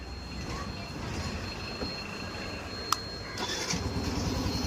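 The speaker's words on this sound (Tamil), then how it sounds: "அதே மாதிரி இன்ஜினோட சவுண்டும் எப்படி இருக்குன்றத பார்த்துடலாம்." A Yamaha FZ motorcycle engine, freshly worked on with original spares, cranks with a sharp click and catches, then settles into a low, steady idle at moderate distance.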